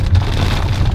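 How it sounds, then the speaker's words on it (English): Hailstones drum on a Volkswagen Touareg while driving, a dense, loud, continuous patter over the body of the car, with a low road rumble beneath. "it's hailstones"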